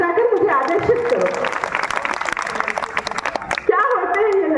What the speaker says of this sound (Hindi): एक बार तालियां बजाकर मुझे आदेशित करो।